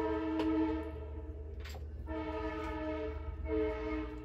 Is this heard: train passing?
yes